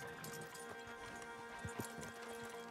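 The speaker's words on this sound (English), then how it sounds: "I got to lead the horse." Horse hooves clip-clop at a steady walking pace in the video game Red Dead Redemption 2, faint and mid-distance under a layer of ambient game sound.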